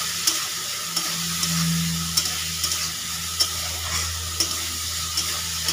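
Spices with turmeric, salt, chilli powder and a splash of water sizzle steadily in a pan for a small fish curry, with light spoon taps and scrapes recurring at intervals over a continuous frying hiss.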